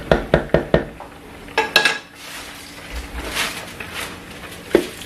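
A lid goes onto a pot of vegetable and chicken coconut rice with a quick run of sharp metallic clinks and clatters, then quieter shuffling and a final close clink near the end.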